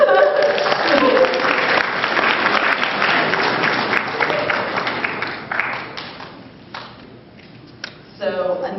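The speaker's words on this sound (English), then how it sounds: "I think he deserves a round of applause for" Applause from a convention panel audience at an anime fan event, a dense sustained clatter of many hands that thins and fades toward the end, with a brief renewed burst at the close and some talk mixed in.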